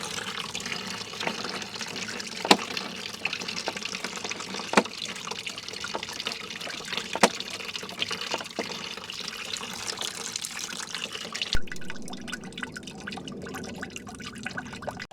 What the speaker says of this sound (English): Hopefully that will help get the juice flowing.